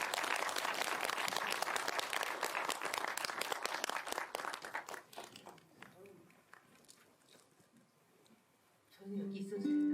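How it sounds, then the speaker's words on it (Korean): An audience at a memorial concert and talk gives a singer a big welcoming round of applause, dense clapping for several seconds that fades into scattered claps, followed by a brief tone at the end. "큰 박수로 맞이해 주시기 바랍니다"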